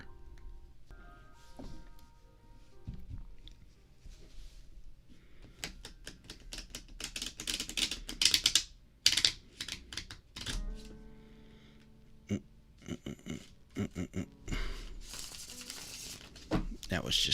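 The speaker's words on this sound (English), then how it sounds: "That was just a bad shuffle." Tarot cards shuffled by hand close up, with crisp papery riffles and flicks in irregular bursts, some taps and quieter gaps between them.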